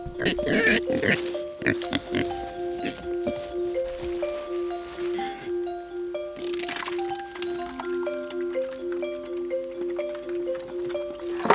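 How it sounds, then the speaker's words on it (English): Hungry pigs grunt and squeal repeatedly at close range, their calls overlapping through a steady, busy background. "Pigs are much more vocal now. They are hungry."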